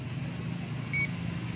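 A single short electronic beep from a multimeter continuity buzzer while testing a TCL LED TV, sounding once over a steady low hum.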